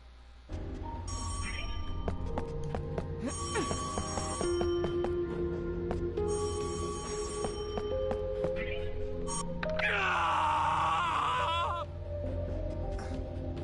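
A phone booth rings inside the video game Death end re;Quest 2: electronic ringing tones repeat over a dense game soundtrack, with a louder burst of ringing near the end.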